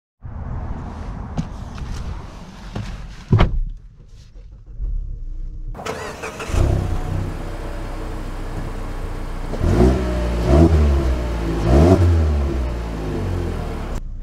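2023 Mazda CX-9 Signature SUV starting up and accelerating, with a quiet idle and a few clicks, then a louder engine surging in repeated revving pulses.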